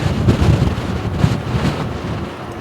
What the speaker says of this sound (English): I could feel the wind pushing the bike too.